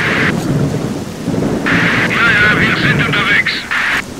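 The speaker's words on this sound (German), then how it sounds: "Das Gewitter macht einen Krach hier." Thunderstorm in the video game S.T.A.L.K.E.R. Clear Sky: loud, steady rain roars throughout while rumbling thunder swells and rolls, with a few sharper bursts layered over the downpour.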